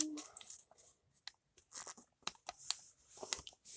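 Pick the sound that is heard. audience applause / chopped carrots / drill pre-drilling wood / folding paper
folding paper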